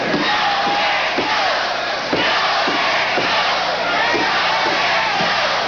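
Wrestling arena crowd at a cage match, roused by manager Percy Pringle, roaring in a dense, steady wall of noise with rhythmic chanting and shouts, loud and continuous throughout.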